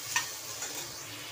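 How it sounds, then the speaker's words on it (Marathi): Tomatoes roast in a pan until browned, giving a soft, steady sizzle with a brief clatter of stirring near the start. The sound is moderate, close and free of talk. "टोमॅटो चांगला भाजून घ्यायचा, ब्राऊन कलर रेड कलर येईपर्यंत चांगला भाजून घ्यायचा"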